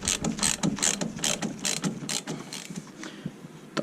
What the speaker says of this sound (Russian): одел съемник и буду снимать рулевой наконечник